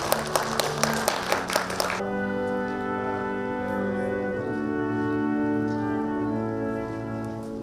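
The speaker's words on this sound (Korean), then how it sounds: "박수를 부탁드리겠습니다" An audience at a commemoration ceremony for the 90th anniversary of the Yukjeongjeong uprising claps in a short burst of about two seconds, which then gives way to sustained musical tones.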